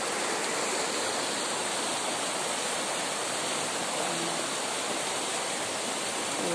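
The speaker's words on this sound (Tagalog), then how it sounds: "Malakas yung tubig" Steady, loud rush of fast-flowing floodwater behind a house, a continuous broadband roar with no pauses, close by and with no voices.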